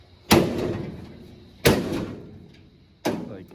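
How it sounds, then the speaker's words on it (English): A 1927 Ford Roadster door that no longer closes properly is shut three times, each a loud, close thud followed by a brief rattling decay, spaced about a second and a half apart. "This door is not shutting good anymore."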